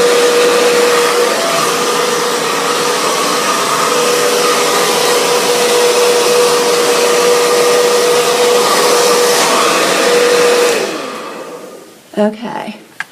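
A handheld hair dryer blows hair dry, a loud steady whooshing roar with a constant motor whine that holds for about eleven seconds before cutting off, followed by a few brief handling clatters.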